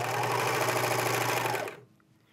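A serger overedges and trims a fabric edge for a blind hem, running in a steady fast close whirring drone before stopping abruptly near the end.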